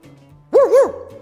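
A single dog gives a quick double bark, close and clear, standing out above a quiet background.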